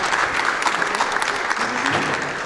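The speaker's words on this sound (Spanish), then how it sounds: "Un aplauso para la doctora." An audience applauds a doctor after her talk at a legal and public policy session, a short burst of dense, steady clapping from the crowd.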